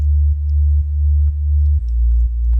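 A plain synthesized sine-wave bass tone playing a chord progression, loud and clean, with steady sustained notes changing pitch about every half second and nothing else present.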